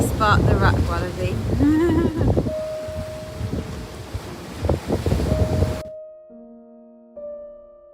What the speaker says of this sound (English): gosh, it's so windy